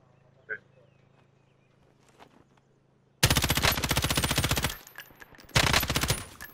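Gunfire in Call of Duty Warzone: after a quiet stretch with a faint hum and a few small knocks, two loud, close bursts of rapid machine-gun fire crack out, with a short pause between them.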